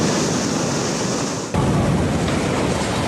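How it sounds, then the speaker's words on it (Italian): Sea waves crash against a damaged seafront promenade on via Villini a Mare in Sicily during a storm, a loud, continuous roar of surf with wind noise and a brief dip midway before the surge resumes. "quando la furia delle onde ha incominciato a sgretolare le strutture di via Villini a Mare"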